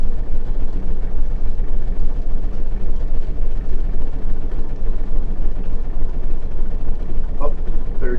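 Small airplane engine rumbling steadily at close range while taxiing out on the ground, a continuous loud drone with heavy low end that holds without pause.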